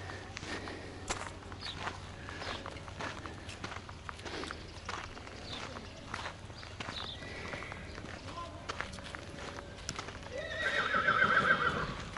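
Horses at a Western-themed site in Almería, Spain, with hooves clip-clopping and shuffling steadily nearby under outdoor background noise, and a high whinny rising near the end.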